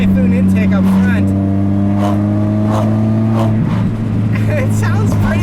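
A supercharged 2005 Chevy Cobalt SS fitted with a Megan Racing catback exhaust and K&N Typhoon intake accelerates hard, its engine droning and rising in pitch, loud and close, with someone talking over it.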